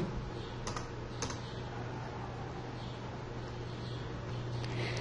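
Close typing on a computer keyboard, a steady run of key clicks over a constant background hum, with a couple of sharper presses standing out.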